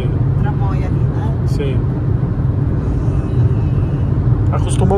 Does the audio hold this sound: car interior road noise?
yes